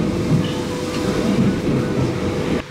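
A Paris metro train at Opéra station rumbles steadily with a low clattering drone, close by and continuous, no voices over it.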